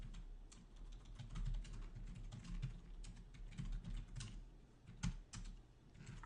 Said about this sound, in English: Feels funny even typing that.